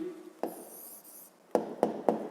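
Pen or pencil scratching on paper while a maths exercise answer is written out, a soft sustained rub followed by three sharp, close strokes near the end, with no talking.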